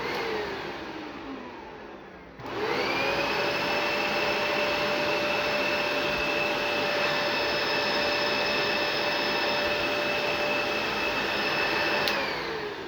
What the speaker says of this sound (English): here comes a beautiful sounding Dyson UP13